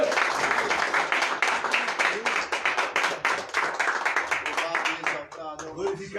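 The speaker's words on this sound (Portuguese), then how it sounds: "Você pode aplaudir o nome dele?" A church congregation claps during a worship service, a dense, sustained burst of applause with a few voices calling out near the end.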